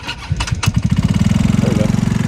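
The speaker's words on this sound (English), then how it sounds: "The engine's nice and hot, so let's go and just start it right up real quick." A hot Talon GSX150 R2 motorcycle engine, fitted with a new ignition, cranks briefly and catches, then settles into a loud, close, steady idle with a fast even putter.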